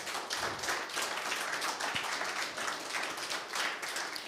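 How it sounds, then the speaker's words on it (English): Audience applause at an evening gathering after a talk by an IDF officer, a dense steady patter of many hands clapping at moderate loudness, with a single heavier thump partway through and no voices. "Let's give a big round of applause for Yaron."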